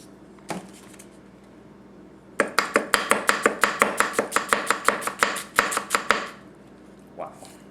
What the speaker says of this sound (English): we'll start off with some onion. I'll do a julienne first.